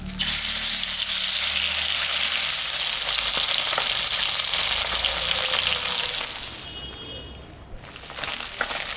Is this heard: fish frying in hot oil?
yes